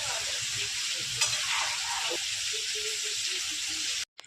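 A pot of chorchori, mixed vegetables with fish head, sizzles and fries steadily with a close, even hiss, a few soft stirring scrapes, then cuts off abruptly near the end.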